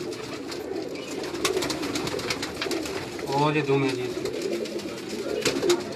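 Pigeons coo on a Karachi rooftop, one clear throaty coo rising out of the outdoor bustle midway through, while someone talks nearby.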